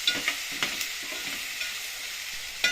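Potatoes stirred and mixed in a sizzling pan while making medu vada, with a steady fry hiss and a few soft scraping strokes, close and moderately quiet, no talking.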